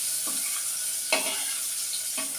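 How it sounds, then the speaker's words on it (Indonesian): Hot oil sizzling steadily in a frying pan before shrimp go in for a stir-fried long bean dish, a continuous bright hiss with a few louder stirring crackles, close and alone. "udah bunyi teman-teman bahwa ini udah bisa buat goreng"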